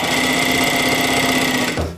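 A sewing machine runs steadily and close up as it stitches binding tape onto a little dress, giving a continuous whirring hum that stops abruptly near the end.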